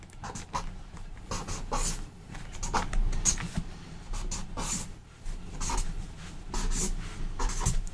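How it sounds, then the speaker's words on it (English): Hand drawing on paper, heard as close scratchy pen or pencil strokes in short irregular bursts separated by brief pauses, with no talk. "So I'm going to draw this now."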